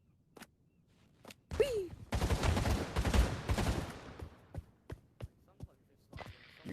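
Pistol gunfire in the VR shooter Pavlov, a dense burst of overlapping shots from several players followed by scattered single pops, with brief voices and a shout between them.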